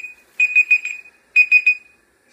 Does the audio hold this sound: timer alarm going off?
yes